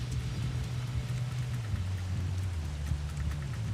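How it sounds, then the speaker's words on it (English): Steady rain hisses continuously in a fishing video game, an even wash of patter under a low droning hum, with no voices. "I appreciate the rain here, though more often than not it's probably raining in this game."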